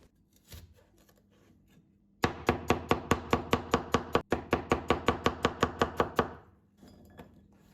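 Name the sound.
chopping bell pepper with a knife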